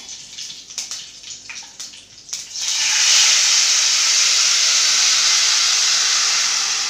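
Mustard-seed tempering with red chilli powder hits hot oil for idli sambar, bursting into a loud, steady sizzling hiss after a few crackles and spits, continuing unbroken to the end.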